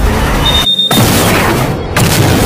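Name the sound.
large explosion from gas leak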